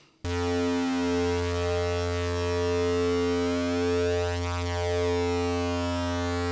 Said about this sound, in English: Ring modulation.